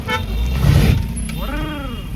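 Cars pass on a road near Dhrol, and a nearby horn gives a short, rising toot over the engine rumble.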